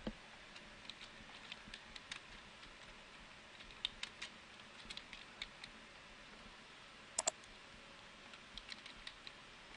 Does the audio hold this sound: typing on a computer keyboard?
yes